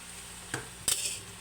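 Chicharon is dropped and stirred into a pot of simmering dinengdeng, heard as two brief close clatters and a scrape against the pot over a low bubbling background, no talking.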